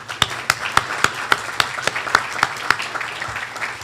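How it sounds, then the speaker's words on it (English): Steady, evenly spaced claps ring out in a sparse rhythm, like a small group applauding in a quiet room at a bar association meeting. "Let's give him a big round of applause."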